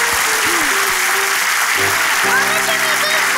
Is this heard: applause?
yes